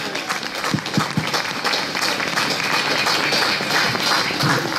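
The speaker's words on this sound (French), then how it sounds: "On peut l'applaudir." A crowd claps in a dense, sustained burst of applause during official speeches at the Saint Vincent wine festival in Chablis, loud and close, continuing steadily throughout.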